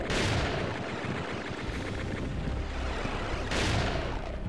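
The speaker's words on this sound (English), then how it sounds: "He's still shooting at me like a..." Enemies firing at the player in the first-person shooter Doom TNT: Evilution, a dense, continuous barrage of gunfire with two sharper blasts near the start and end, loud and close.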